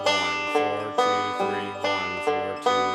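A plucked banjo rolls through a repeating 4-2-3-1 picking pattern, bright notes ringing in a steady, even rhythm, close and clear with no talking.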